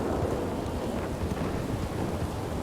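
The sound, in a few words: thunder from a video game (Red Dead RP)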